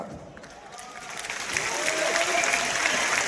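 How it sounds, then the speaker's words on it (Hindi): Audience applause at a gathering of a large organisation's family, steady broadband clapping that swells after the first second and holds dense and fairly close, with faint voices mixed underneath. "और इन लोगों की तालियों से इस बात का एहसास होता है"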